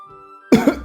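A cartoon man coughs in a short, harsh burst of two or three close, loud coughs after a faint tonal background.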